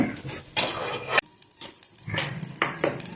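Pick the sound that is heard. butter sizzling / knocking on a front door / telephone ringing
butter sizzling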